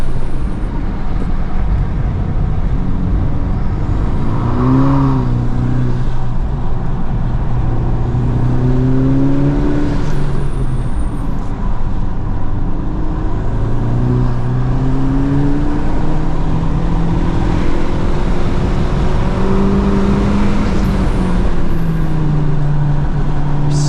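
A 2023 Honda Civic Type R FL5 on all-season tires drives a flooded race track, its engine droning loudly and steadily with rising and falling revs as it shifts through gears, heard from inside the car.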